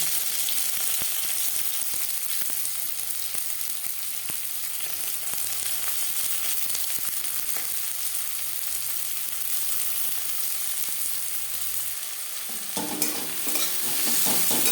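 Chopped onions frying in oil left over from frying fish for a macher jhal, a loud continuous crackling sizzle held close for a long stretch, briefly shifting near the end as they are stirred.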